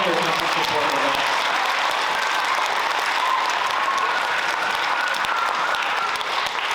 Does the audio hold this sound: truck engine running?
no